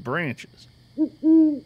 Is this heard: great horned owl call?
yes